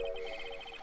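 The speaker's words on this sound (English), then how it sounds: "that old familiar clearing of the throat" A short throat-clearing sound effect from the Phoenix Wright: Ace Attorney video game, a quick series of pulsing vocal bursts lasting under a second, heard alone.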